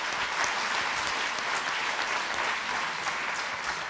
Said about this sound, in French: je vous demande d'applaudir notre ministre qui est ici présente